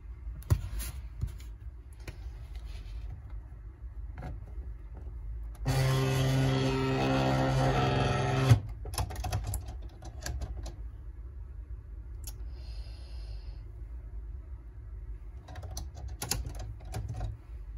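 A Silhouette cutting machine makes a test cut on heat transfer vinyl, giving a steady motorized whir for about three seconds. Scattered light clicks and taps come before and after it.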